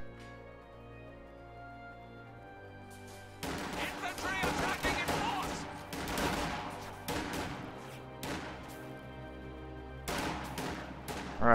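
Rifle gunfire crackles through a Company of Heroes 2 battle, a dense burst of shots starting after a few quiet seconds and continuing in irregular volleys over low battlefield rumble, with a commentator talking throughout.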